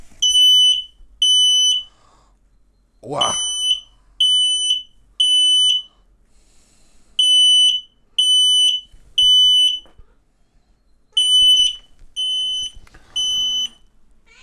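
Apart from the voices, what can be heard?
X-Sense XS01-WT WiFi smoke detector alarm sounding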